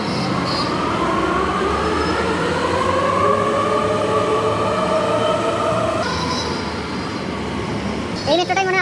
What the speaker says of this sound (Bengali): এই মেট্রোটাই মনে হয় আবার ঘুরে আসবে